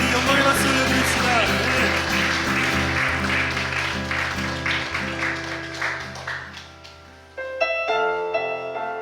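A church congregation at a youth worship service claps in praise to the Lord over music. The dense clapping is loud at first, thins out over several seconds, and then the music continues on its own.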